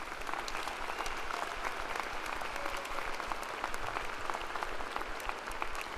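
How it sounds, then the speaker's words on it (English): Sustained audience applause fills a graduation ceremony hall at the University of Nebraska–Lincoln, a dense, steady wash of many hands clapping at even loudness throughout with no break. "Would you all join me in our big Husker round of applause for each of these individuals?"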